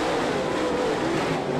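Super late model stock cars racing three wide through the turns at Ponderosa Speedway, a dense, continuous engine roar with no break, loud and sustained.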